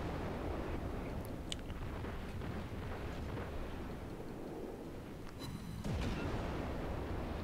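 Naval guns from World of Warships thundering as the cruiser Erie comes under fire, booms rolling into a continuous low roar with a sharper crack near the end.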